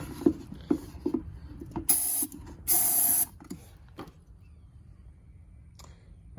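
Two short, loud bursts of aerosol spray hiss into the engine of a Honda Rancher 420 ATV that has stalled, separated by a brief pause, with light clicks and handling noises around them.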